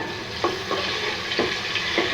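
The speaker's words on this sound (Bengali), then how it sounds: "পরিমাণ মতন তেল দিব, ফোড়নে 2টা শুকনো মরিচ দিব, তেজপাতা দিব।" Two dried red chilies and bay leaves frying in hot oil as a tempering for buffalo meat curry, a steady close sizzle with a few soft clinks of stirring.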